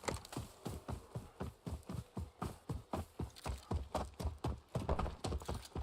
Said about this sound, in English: Footsteps seems louder than they were.